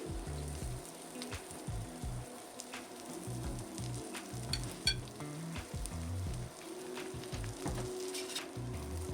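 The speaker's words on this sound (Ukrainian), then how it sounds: "Викладаю цибуляники ложкою і обсмажую з обох боків до золотистого кольору." Steady oil sizzle and crackle of onion fritters frying in a pan, with occasional sharper pops over a continuous hiss; no voices.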